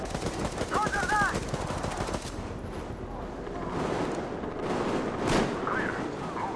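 Rapid automatic gunfire rattles through a firefight in the video game Metro, bursts of shots layered over a busy, dense battle mix with other clatter throughout.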